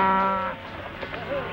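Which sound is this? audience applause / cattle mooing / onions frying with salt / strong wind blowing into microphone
cattle mooing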